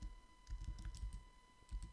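Keys clatter on a computer keyboard while text is typed in Adobe Illustrator, a quiet irregular run of soft clicks over a steady electrical hum, with no talking.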